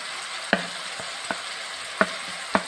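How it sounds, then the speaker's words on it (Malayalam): Ground coconut paste frying in a pan with green chillies about to be added, a low steady sizzle under a few sharp scraping taps of a spoon against the pan at uneven intervals, close by. "ഒരു 2 മിനിറ്റ് ഇളക്കി കൊടുക്കാം."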